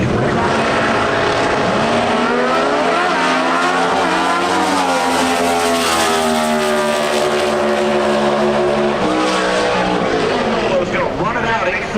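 A four-cylinder drag racing dragster makes a run at an NHRA event in Norwalk, Ohio, its engine roaring loud and steady with pitch climbing through gear shifts, with an announcer talking over it.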